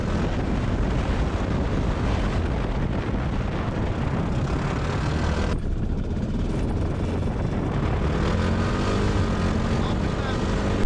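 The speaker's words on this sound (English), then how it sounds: "So it's pretty windy" Constant loud wind buffeting the microphone, a rough broadband roar that barely lets up throughout.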